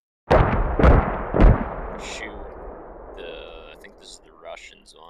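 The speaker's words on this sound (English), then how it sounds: "So I'm gonna shoot the different mortars." Three heavy booming mortar launches in quick succession with long rumbling tails in the game Squad, followed by fainter electronic game effects fading out.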